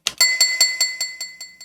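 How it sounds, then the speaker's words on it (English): A pen striking a drinking glass, with an artificial echo added: one sharp clink, then a train of about eight evenly spaced ringing repeats that fade gradually, heard alone. "That's just my pen hitting one of my glasses and then just adding an echo to it."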